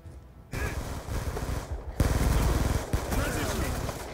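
Bursts of rapid gunfire in the shooter Black Ops 2, a short quiet lead-in followed by loud close automatic fire that briefly stops and resumes, with game noise underneath.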